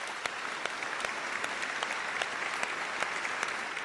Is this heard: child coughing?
no